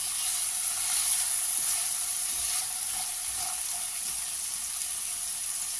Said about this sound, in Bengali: দিয়ে এটা এবারে একটু ভেজে নেব ভালো করে।